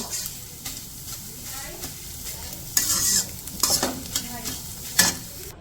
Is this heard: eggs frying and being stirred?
yes